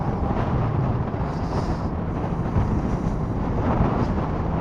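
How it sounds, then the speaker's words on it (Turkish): Heavy wind buffeting the microphone on a motorcycle ride, a constant low roaring rumble with no break, loud and close throughout. "çok da rüzgar var"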